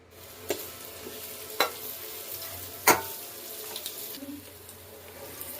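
Green chilies and coriander fry in a kadai with a soft, low sizzle, punctuated by a few sharp knocks and scrapes of a spatula against the pan as they are stirred.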